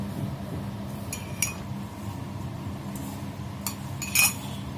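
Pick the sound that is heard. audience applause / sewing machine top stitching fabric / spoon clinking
spoon clinking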